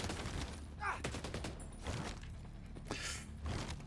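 Gunfire in a shooter video game, several distinct shots and short bursts spread through the moment at moderate distance, with a faint sense of voices in the background.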